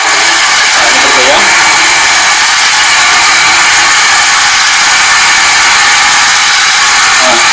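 A HL-0618PTCC mini lathe spins a long workpiece, giving a loud, steady high-pitched motor whine and hiss that runs unbroken throughout, with no talking over it.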